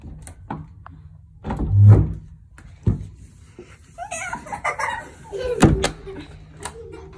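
A bathroom door is worked at and opened amid a string of knocks, thumps and rattles, with a sharp clunk near the end, close by in a house while children's voices and laughter mix in.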